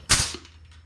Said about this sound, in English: get all those set first so that I can squeeze them